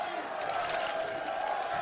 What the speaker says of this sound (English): There's the crowd.